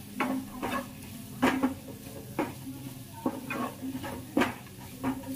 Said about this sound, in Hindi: धनिया को इसके अंदर अच्छे से मिक्स कर लेते हैं